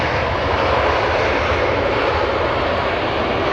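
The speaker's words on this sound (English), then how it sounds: "E175. Getting really loud at the end." A SkyWest Embraer E175 regional jet flies in to Los Angeles International Airport, its engines a loud, steady close roar of broadband jet noise that swells toward the end, with no voices.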